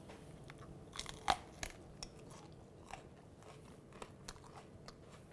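Crispy bread with a hot spinach and ricotta meatball bitten into, giving one loud crunch followed by a few softer crunches and chewing crackles, close up and with no talk.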